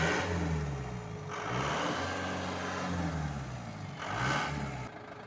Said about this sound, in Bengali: ভাই অ্যাক্সিলেটার বাড়ি দেন